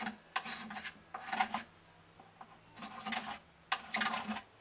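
A scraper works along the side of a Gibson LG2 acoustic guitar under repair, in short rasping strokes of about half a second each, close and fairly quiet, with brief pauses between passes.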